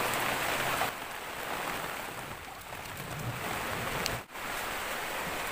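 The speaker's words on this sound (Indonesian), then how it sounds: "untuk video kali ini agak berisik karena sedang turun hujan." Steady rain pours outdoors during bonsai work, a dense, continuous hiss of drops on surfaces filling the whole background at moderate level, with no talk over it.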